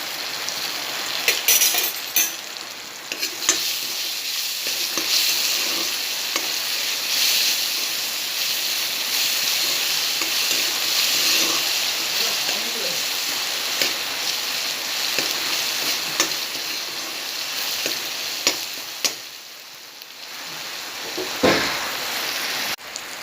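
Onion and ginger-garlic paste frying in a pan, a continuous close hissing sizzle with occasional stirring clicks, steady throughout and dipping briefly near the end.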